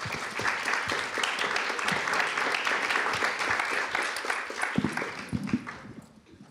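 Audience applause at a Great Ocean Dialogues gathering session: a room full of people clapping steadily, thinning out and fading away over the last second or two.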